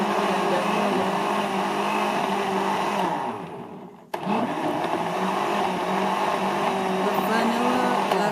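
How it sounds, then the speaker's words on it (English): A blender whirs loudly and steadily blending stinking toe punch ingredients, winds down briefly, then kicks back up to full speed and keeps running. "put all of them in the blender"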